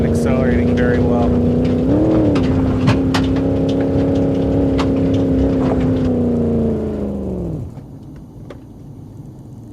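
Oldsmobile Regency 4x4 engine in BeamNG.drive laboring at steady, strained drone with harmonic hum, a brief pitch wobble near two seconds, then fading and dropping off as the engine quits and the car coasts.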